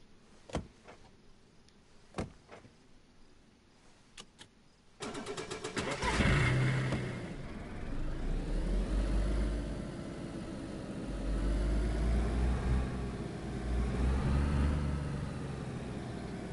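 A car in DayZ on PS4 Pro sits quiet with a few faint clicks, then its engine starts abruptly halfway through and settles into a loud, rumbling drive that swells and eases as it moves.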